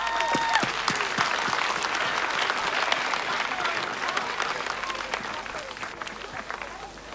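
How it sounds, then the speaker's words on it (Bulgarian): An audience applauds a composer who is jury chairman at a music award ceremony in Bansko, a dense sustained wash of clapping from a large crowd, steady throughout and slowly fading near the end. "Аплодисменти за него!"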